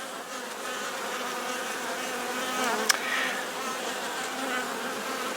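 Honeybees buzz steadily around hives during a honey harvest, a dense continuous drone of many insects close by with one brief louder pass.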